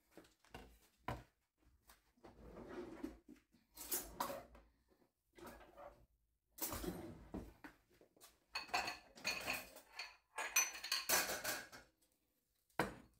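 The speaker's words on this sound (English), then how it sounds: "I just get a bowl, a spoon, scrape the insides out." A metal spoon scraping the seeds out of a halved acorn squash into a bowl, giving intermittent clinking, scraping strokes with pauses between them, close and fairly quiet, with no talking.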